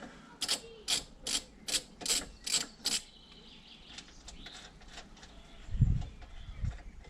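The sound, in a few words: unscrewing a bolt on BMW 1 Series strut brace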